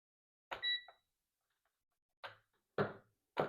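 A multimeter gives one short electronic beep while testing the battery bus bars of a 2013 Nissan Leaf, then a few faint clicks of the probes in a quiet room.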